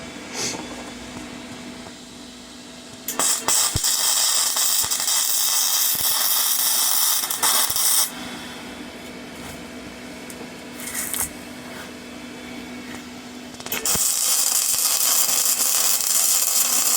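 Flux-core arc welding on a vertical joint, with loud crackling, hissing bursts that start and stop in several long passes, close to the torch.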